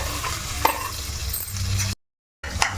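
Chopped onions sizzle and crackle in a pan for a dried shrimp and egg curry, with a few utensil clinks and stirring scrapes. The sound cuts out briefly and then the sizzling resumes.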